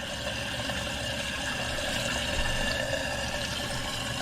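A toilet tank refills through a newly replaced fill valve after a quick pressure test, making a steady, even hiss and rush of water that holds at one level throughout.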